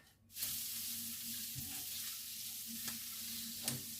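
A spoon stirs warm eggplant salad with dried garlic in a pan, a steady faint sizzle underneath with a few soft scraping strokes against the pan.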